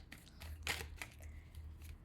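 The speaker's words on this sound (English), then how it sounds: "gonna shuffle more, of course." Tarot cards shuffled by hand make quiet, papery riffling bursts with one louder flutter near the middle, close and faint over a low background hum.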